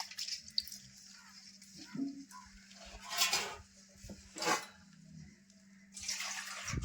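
Prawns placed into a bowl of water, heard as a few soft splashes and drips with faint clinks, quiet and close against a low steady hum.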